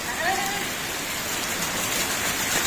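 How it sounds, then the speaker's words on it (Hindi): Heavy rain pours steadily across a flooded village street, a dense continuous hiss close by with no pauses, while children play in the water nearby. "बारिश फिर से तेज़ हो चुकी है"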